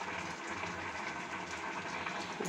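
Tamarind water poured into a pot of drumstick and brinjal sambar with cooked tomatoes: a steady, close, continuous splashing pour lasting a couple of seconds without pause.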